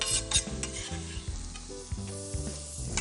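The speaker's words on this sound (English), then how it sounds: "So we'll go ahead and add in all those shallots." Shallots are added to a hot pan and sizzle close up, with a crackling fry and stirring scrapes over a faint tonal hum.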